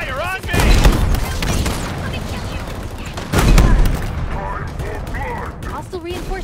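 Gunfire and a grenade blast in Halo Infinite, dense rapid firing with two heavy explosive bursts, loud and close, while in-game voices shout over the combat.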